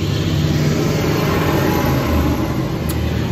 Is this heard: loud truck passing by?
yes